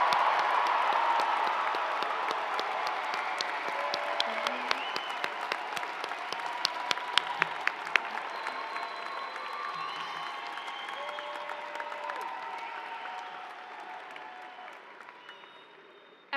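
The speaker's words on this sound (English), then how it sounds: "Let's give all of our graduating students another huge round of applause for this major" Long, large-arena applause for graduating students at the 2024 Moody College graduation ceremony in the Moody Center, with sharp nearby claps, scattered whistles and cheers, slowly tapering off toward the end.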